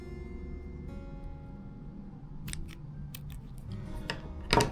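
Scissors snip the tag end of an FG fishing knot in a single sharp, close cut near the end, after quiet handling of the line.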